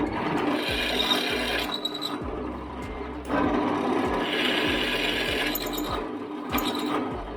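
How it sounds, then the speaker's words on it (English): A drill cuts a 13 mm hole through metal, its motor whining steadily up close with a grinding, chattering bite, easing off around the middle before bearing down again. "I'll now drill a 13 mil hole through here"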